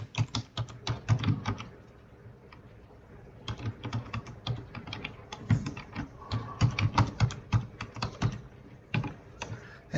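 Fingers typing on a computer keyboard, entering an email ID for a login; brisk irregular clatter of key taps close by, with a short pause midway before the tapping resumes.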